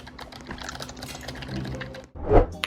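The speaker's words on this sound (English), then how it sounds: "The old keyboard I had sounded akin to this." Rapid clattering keystrokes on an old computer keyboard tap in a dense, uneven burst, followed by a short pause and a louder thump.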